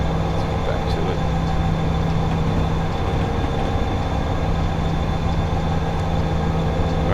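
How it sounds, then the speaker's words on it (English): BNSF SD75 diesel freight locomotive running in Train Simulator 2016, a steady droning engine hum with constant rolling rumble throughout, no break in the sound. "There's our train right there."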